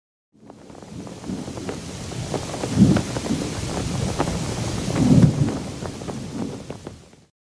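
A thunderstorm sound effect with steady rain and a heavy, rumbling wash of wind that swells into two louder thunder rolls before fading out, heard alone with no talk.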